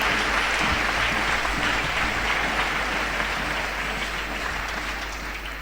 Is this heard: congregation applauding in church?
yes